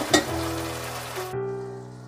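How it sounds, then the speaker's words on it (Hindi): Green peas frying in a pan with tomato paste for a mushroom curry, a short close sizzle opening with a sharp clink, then a steady hiss under a low hum. "इसे फ्राई करेंगे, 4 से 5 मिनट तक फ्राई करेंगे।"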